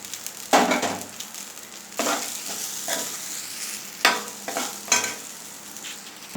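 Cooked rice being stirred into a carrot and chili spice mix in a hot pan, a soft steady sizzle broken by irregular scraping strokes of the spoon, close and clear with no voices.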